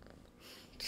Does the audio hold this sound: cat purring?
yes